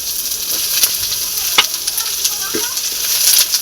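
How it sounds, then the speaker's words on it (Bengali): Mustard greens fry loudly in hot oil, a continuous close sizzle broken by a few sharp stirring clinks, with no voices. "এবার দিয়ে দেবো সর্ষের শাক।"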